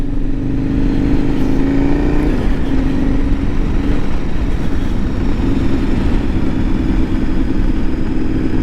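2017 KTM 1090R motorcycle engine pulling away, a loud, steady, close drone with a rising rev tone early on and constant rumble throughout, with no talking.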